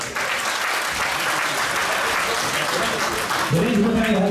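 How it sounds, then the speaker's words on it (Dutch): Audience applause at a Fight Dome kickboxing event, steady dense clapping throughout, with a voice and a brief tonal sound entering near the end. "mag ik een groot applaus voor deze week"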